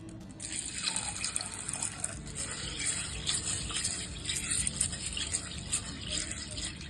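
Steady running water splashing into a basin, a continuous hissing gush with small clatters as lentils are swirled and rinsed.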